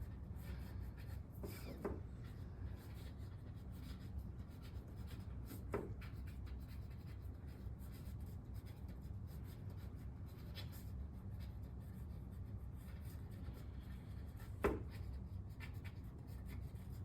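Letters are written by hand, giving a long, steady, quiet scratching of pen on paper with a few sharper taps or knocks scattered through it, close and without speech.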